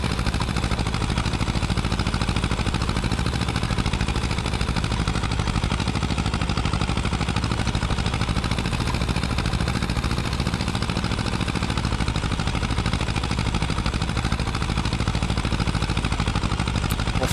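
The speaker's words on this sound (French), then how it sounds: "ça peut être bien d'avoir un petit tracteur comme ça" A small tractor engine idles steadily in Farming Simulator 25, a constant mid-low drone with faint vibration that holds unchanged throughout, with no speech.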